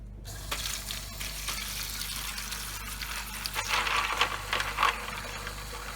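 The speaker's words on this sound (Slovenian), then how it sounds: "In na to polijemo z vrelo vodo." Boiling water pours and splashes steadily into a container of soapy keyboard keys, with bursts of gushing and clinking as the flow hits the small hard keys.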